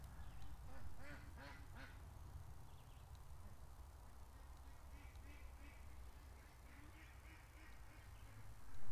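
Ducks quack faintly in short bursts near a creek over a steady low background rumble, distant and quiet.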